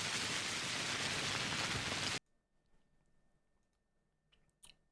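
Steady loud rain from the game Pathologic hisses broadband for about two seconds, then cuts off abruptly, leaving near silence with a couple of faint clicks.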